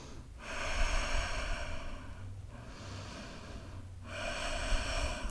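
Slow, deep breathing during a vinyasa yoga class: long, even inhales and exhales, heard up close and alone, with about three breath cycles separated by brief pauses.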